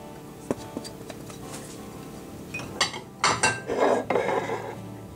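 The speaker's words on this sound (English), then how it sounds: "in a medium bowl, we'll combine the dry ingredients, the oats," Oats, flour and other dry baking ingredients for oatmeal cookies tipped into a medium mixing bowl, heard as a few light clinks early on, then a burst of louder rustling, scraping pours close by, with no talking.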